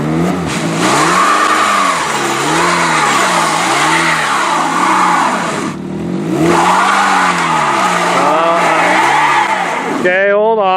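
A stock derby car revs hard in repeated surging waves while rocking back and forth in reverse, loud and close, with a brief drop midway before revving resumes and a voice calling out over it.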